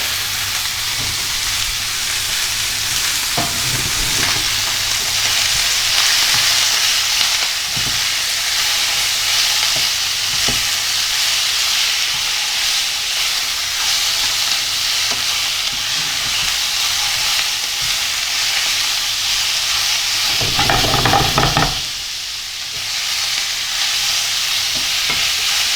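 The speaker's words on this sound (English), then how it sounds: "I'm going to sear this off." Pork belly searing in a hot pan, a loud, constant sizzling hiss up close with occasional sharper spatters and a brief louder burst near the end, no talking.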